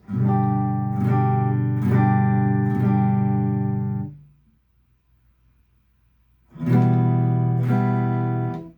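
Guitar chords strummed in a steady, halting rhythm, each ringing separately, then a pause of near silence before the chords resume, loud and close.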